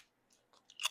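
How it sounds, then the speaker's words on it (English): Close, dry crunching of seasoned baked cucumber chips being bitten and chewed, a few soft crackles building to a sharper crunch at the end, with no talk over it. "They definitely crunch like a chip."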